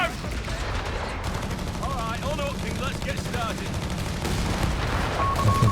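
Axis artillery barrage in the World War II strategy video game Company of Heroes 3, dense, continuous rumbling booms and crackling impacts under a commentator's voice.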